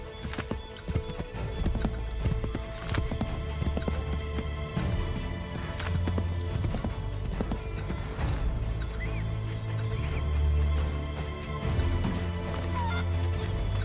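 Horse hooves clip-clop steadily in Assassin's Creed 3 Remastered gameplay on PS5, with an occasional whinny, under a dense layer of music and ambient game sound.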